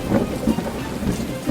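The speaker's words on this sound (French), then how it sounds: "La pluie se remet à tomber." Rain falls steadily while thunder rumbles in low, rolling swells, loud and close, with no voices.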